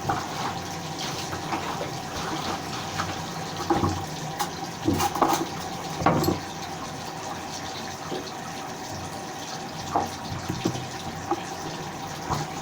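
Clothes rinsed by hand in water with Flash floor cleaner, giving continuous splashing and trickling with scattered sloshes and wet slaps, close and moderately loud with no voices.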